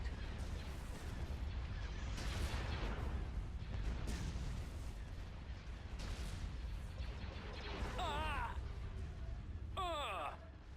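Starship weapons fire in a space battle from the Empire at War mod Thrawn's Revenge, a dense rumble of turbolaser blasts and distant explosions, with radio-style voices speaking over the din and laser whines near the end.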